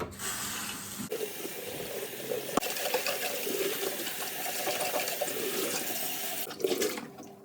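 Tap water pours into and rinses a kettle, a steady loud splashing rush that runs for several seconds, with a brief clank midway and the flow cutting off near the end.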